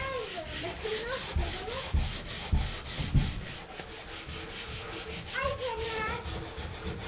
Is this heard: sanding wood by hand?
yes